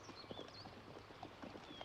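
Horses' hooves clip-clop at a steady walking pace, faint and at a moderate distance, on a road in 1600s England with only quiet ambient sound and no talk.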